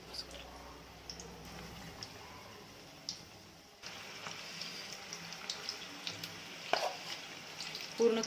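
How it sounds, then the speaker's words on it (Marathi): Onion bhaji (kanda bhaji pakode) fritters frying in a pan of hot oil, a faint continuous sizzle with small pops that grows a little louder partway through, no voices. "तर आपण आता यामध्ये भजी सोडू शकतो"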